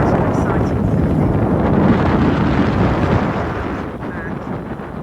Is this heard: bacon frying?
no